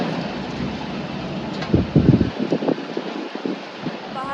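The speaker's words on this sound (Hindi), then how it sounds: "बाहर बहुत बारिश हो रही थी" Heavy rain falls in Delhi during the first downpour after a hot spell, making a steady close hiss. A few low rumbles and gusty bursts rise in the middle of it.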